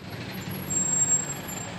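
Truck air brake hisses amid busy daytime street traffic on a Thai walking street, a brief rush over a steady low road rumble, close and moderately loud.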